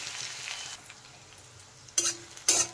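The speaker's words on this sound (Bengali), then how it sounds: "আর এখন পেঁয়াজগুলো কিন্তু ভালো করে একটু ভেজে নিতে হবে" Chopped onions sizzle softly in a pan for chicken gugni, a gentle frying hiss broken by two sharp scrapes of stirring near the end.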